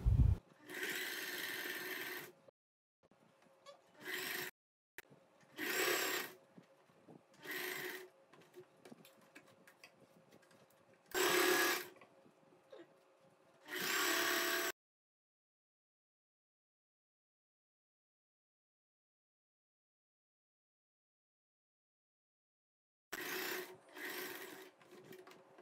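Domestic sewing machine stitching churidar fabric in short repeated bursts of close mechanical whirring, separated by pauses and a long stretch of silence before two final runs.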